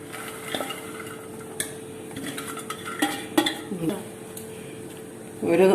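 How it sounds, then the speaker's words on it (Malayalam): Lentils and grated coconut are stirred in a pan over a low flame for sukiyan: a metal spoon clinks and scrapes against the pan in irregular strokes, close and fairly quiet, with a louder scrape near the end. "ഒരു നൂൽ പരുവം ആയപ്പോഴത്തേക്ക് നമ്മൾ പയറും തേങ്ങയും കൂടി ഇതിനകത്തിട്ടിട്ട് കുറച്ച് നേരം ഇളക്കി കൊടുക്കണം, ചെറുതീയിലിട്ട്"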